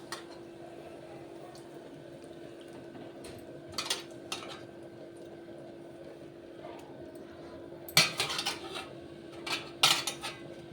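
Cleaned goat tripe (boti) goes into a pot of boiling water, with sharp metallic clanks of pot and utensil at a few scattered moments over a quiet, low background hum.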